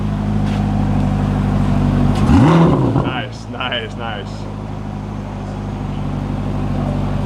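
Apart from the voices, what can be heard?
2025 Corvette ZR1 engine revving lightly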